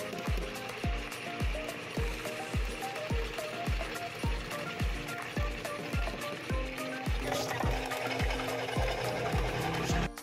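Grinder working through washed glutinous rice, a steady loud mechanical churning with regular rhythmic knocks repeating about twice a second throughout, no voices.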